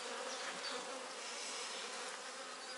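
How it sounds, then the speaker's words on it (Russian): A dense, steady buzz of many honey bees humming close by in an opened hive in spring, continuous and fairly loud with no talking. "Открываем с краю гнездо. Вот, посмотрите, пчелы."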